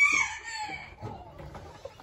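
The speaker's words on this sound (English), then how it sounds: "in which we have some broody hens." A broody Silkie bantam hen gives a short drawn-out call, then a few low, soft clucks follow nearby in a quiet breeding shed.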